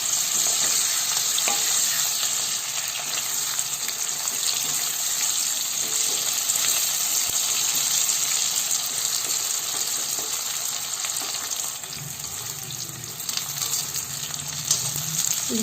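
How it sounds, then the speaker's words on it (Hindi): Jackfruit pieces frying in hot oil over high heat for a jackfruit curry, a loud, dense, continuous sizzle and crackle heard up close for the whole stretch, with occasional stirring and no voices. "इसके भी हम सब भूज लेवे और याद रखब तेजे आंच पर हम सब ये भूजबे कटहल के"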